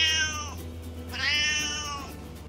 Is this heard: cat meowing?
yes